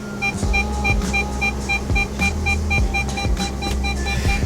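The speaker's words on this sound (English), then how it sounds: "we actually have backup sensors in this car" Evenly spaced electronic beeps from a Bentley Arnage's reversing sensors repeat about twice a second over a low engine hum, close and moderately loud.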